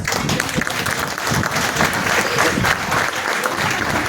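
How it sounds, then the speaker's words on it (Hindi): Seminar audience at a motivational event breaking into loud, sustained applause, a dense even wash of many hands clapping close by for the whole stretch. "एक बार जोरदार तालियों के साथ"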